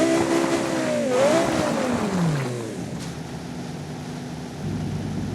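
A BMW X6M is driven in the BeamNG.drive video game during a suspension test, its engine note rising and then falling as it pulls away, followed by a steadier lower drone.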